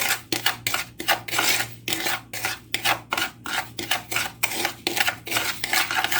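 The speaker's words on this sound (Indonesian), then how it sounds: "Kemudian aduk-aduk sampai tercampur rata." A spoon or whisk is worked briskly through a pudding mixture in a metal pan, producing a fast series of close scraping and rasping strokes against the bottom, with a low hum in the background.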